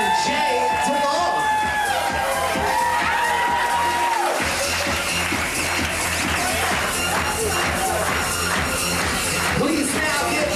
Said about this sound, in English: now entering to an even bigger round of applause, Connor McCaw and Jay DeMaul.